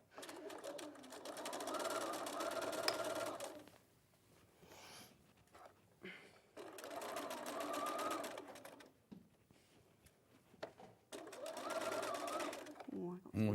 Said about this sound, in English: it's jamming slightly, my sewing machine, isn't it?